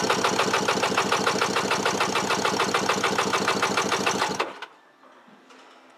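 A carbureted 1997 Kawasaki STX 1100 jet ski engine with 111 hours cranks over for a compression test, giving a fast, even chugging rhythm for about four seconds before cutting off into near silence.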